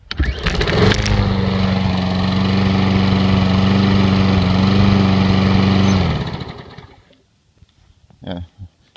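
A small lawn equipment engine fires up from a cold start after sitting several weeks, loud and close with a steady buzzing drone for about six seconds before winding down, followed by a few faint knocks.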